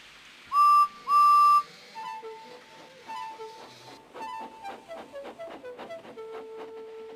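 Steam engine Edward strains to start a heavy train at a china clay works, two loud whistle blasts followed by a series of chuffs and squealing tones, gradually quickening.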